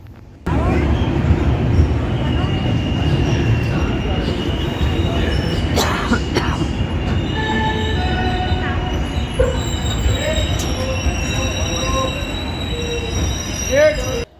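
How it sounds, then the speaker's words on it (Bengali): The Azad Hind Express pulls into Raipur Junction station, running more than four hours late, with loud continuous wheel squeal and rumbling rail noise that stay close and steady throughout. "নির্ধারিত সময় থেকে 4 ঘন্টা 20 মিনিট লেটে ট্রেনটি ঢুকছে।"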